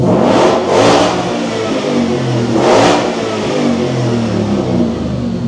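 A Coyote 5.0L V8 in a Land Rover Defender 110 revs hard on a dyno, with two loud surges over a steady, rumbling engine drone.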